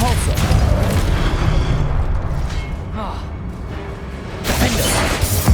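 The Depulso force-push spell from the Hogwarts Legacy video game is cast amid combat, giving a heavy booming blast and whooshing impacts over a constant rumble, with a voice shouting spell names throughout.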